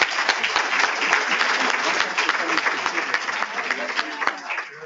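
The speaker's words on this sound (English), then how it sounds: "I'd like to give another round of applause for our speakers today" Conference audience applauding speakers after a session on pathogens and harmful algal blooms, steady dense clapping from a room full of people, sustained and fairly loud before tapering off.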